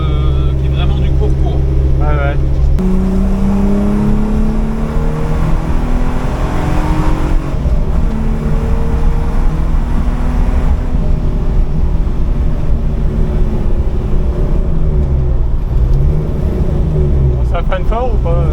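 A Ford Sierra XR4i V6 rally car engine drones loudly from inside the car as it drives, its pitch climbing and dropping through gear changes.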